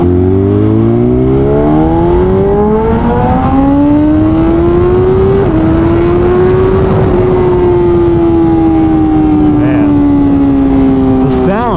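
A BMW S1000RR motorcycle with a stage 2 flash accelerates hard. Its close, loud engine whine climbs steadily through the gears with a brief shift blip, and wind rushes throughout.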